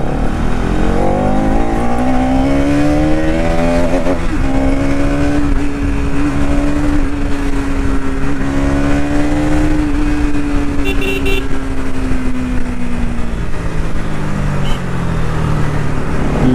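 A Bajaj Pulsar NS200 motorcycle engine rumbles steadily while riding on a road near Panvel, with rising and falling rev tones over constant road and wind noise, loud and close throughout.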